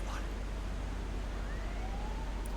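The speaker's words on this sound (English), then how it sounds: "Hearing some sirens." A faint, distant siren wails in the Silent Hunter IV submarine video game, a thin rising and falling tone over a constant low rumble of engine and sea noise.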